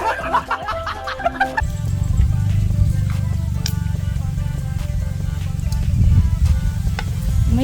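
Squid, adobong pusit, frying in a pan over a strong fire, a loud steady sizzle that starts after a few clattering knocks and keeps going, with faint talk and laughter nearby.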